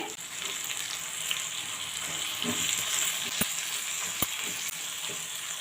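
Garlic and cumin frying in hot oil for a Karnataka-style chicken curry, a steady crackling sizzle throughout with a couple of sharp clicks from a utensil, close by and with no talking.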